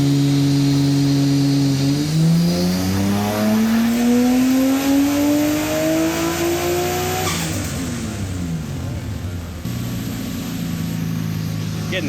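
An R32 Nissan Skyline engine with a raised rev limiter revs up hard and climbs in pitch, then drops back and settles into a rough idle, loud and close.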